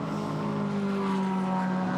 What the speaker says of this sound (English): I think that's Trent Hinman, sounds like a Porsche.